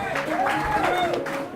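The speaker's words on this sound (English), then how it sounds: "round of applause for the band." Audience applause and scattered cheers for a live band at a burger restaurant, a busy, steady wash of clapping heard through the room for a second and a half, with a voice and tonal sounds mixed in.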